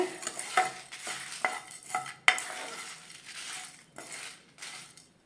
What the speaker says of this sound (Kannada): ಧನಿಯಾ, 6 ಒಣಗಿದ ಮೆಣಸಿನ್ಕಾಯಿ. ಇಷ್ಟು ಫ್ರೈ ಮಾಡ್ಕೊಳ್ಳೋಣ.